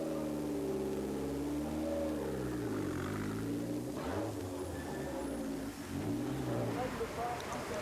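Rally cars roll through a town during the 1994 Rallye Monte Carlo, their engine notes rising and falling as they pass close by at modest speed, under steady narration.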